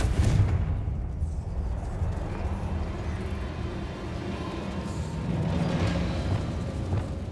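Confringo fire spell blasting in Hogwarts Legacy, a deep rumbling explosion opening loud and rolling on as a low boom-laden roar with a second swell of crackle near the end.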